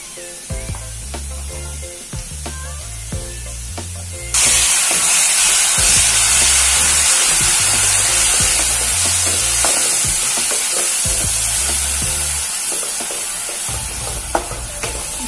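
Taro (arbi) chunks frying with masala paste in a hot pan, a loud, steady sizzle that jumps up sharply when the paste goes in, with occasional stirring scrapes throughout.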